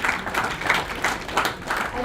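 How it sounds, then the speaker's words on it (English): A crowd at a national conference claps steadily in continuous applause for award winners, a dense, even patter of many hands. "A big round of applause to all the Indian achievers for the award."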